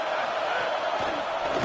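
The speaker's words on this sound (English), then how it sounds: "This crowd ready to make its presence known." A stadium crowd roars in a college football video game, a dense, loud, steady wash of voices with no break.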